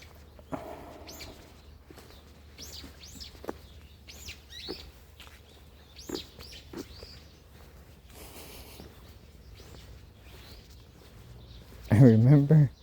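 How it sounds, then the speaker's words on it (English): Birds chirping outdoors in Tokyo with a light wind: scattered short, faint chirps and tweets over a soft breezy background, and a brief louder low rumbling burst near the end. "Winds blowing, bird chirping."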